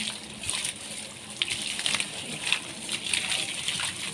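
Water splashes steadily onto garden plants as they are watered, a continuous close gush with small irregular spatters and drips and no talking.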